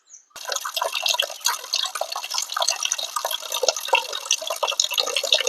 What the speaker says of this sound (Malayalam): നല്ലതുപോലെ അഴുക്ക് പോകുന്നത് വരെ കഴുകുക നന്നായിട്ട് ബ്ലഡിന്റെ അംശമൊന്നും കാണാതെ നല്ലപോലെ കഴുകിയെടുക്കുക